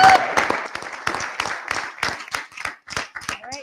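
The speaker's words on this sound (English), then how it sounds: "I feel like we need to applaud this one" A small group at a school board meeting claps after a motion passes: a thin scatter of separate hand claps, fairly close and uneven, fading out over a few seconds.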